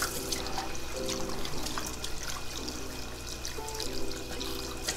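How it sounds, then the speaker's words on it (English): Cold tap water runs steadily over freshly cut crappie fillets at a sink, a continuous splashing wash with a few brief clinks of handling, no talking. "now that we have all of our filets, we're gonna rinse them"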